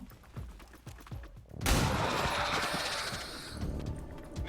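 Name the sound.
pistol gunfire in XCOM 2 video game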